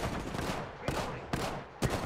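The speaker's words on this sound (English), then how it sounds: "Enemies are shooting at me" Enemy gunfire in a shooting video game bursts out in rapid, loud volleys, three or four clustered rattles with short sharp breaks between them.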